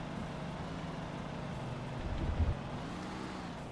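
Truck engine in the video game Hard Truck 2 droning at a steady low pitch while driving, with a slight rise and a brief bump midway.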